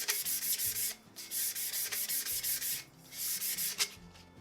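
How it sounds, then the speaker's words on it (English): Close, rhythmic rubbing strokes as sandpaper scuffs the outer coating of a stainless steel tumbler before epoxy, in repeated bursts with brief pauses. "You just want to scuff up that outer coating."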